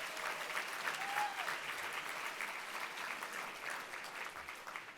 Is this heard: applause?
yes